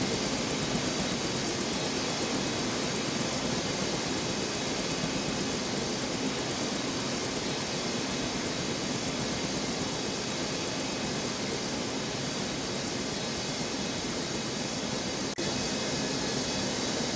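A jet airliner on a Newark airport runway produces a constant broadband roar, steady and moderately loud for the whole stretch without fading in or out, and no voices are heard.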